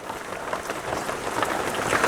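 Rain falls steadily outdoors during an outdoor grilled-beef meal, a continuous soft hiss of drops at moderate level with no voices.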